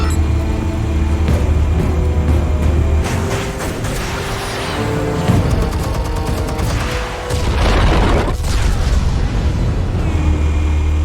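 Explosives detonate in the Batman Telltale Series video game, a sustained, loud roar of booms and crackling debris that swells and rolls on without pause.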